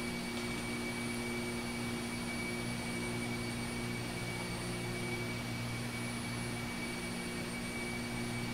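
A Boeing 747-400's jet engines drone in a P3D v4 flight simulator: a constant, even, faint whine and rumble with no variation and no talking.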